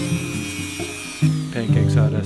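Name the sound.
power sanding freeze-dried pancakes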